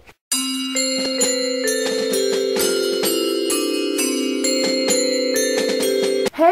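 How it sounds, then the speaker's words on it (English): Sleigh bells ring in a steady, bright run of chiming strikes over sustained ringing tones. They play loud and close, with no talking, for about six seconds, then stop abruptly. "It sounds like sleigh bells."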